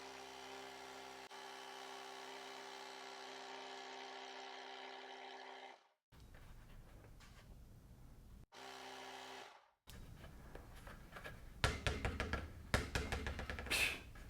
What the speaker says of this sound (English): we're just going to hold this button down, and we'll give bursts of air and we'll blow up our basketball